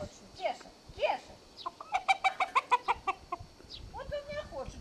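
Chickens cluck in a yard where a stork is being fed, a rapid burst of a dozen sharp clucks in the middle with scattered softer clucks around it, moderately near.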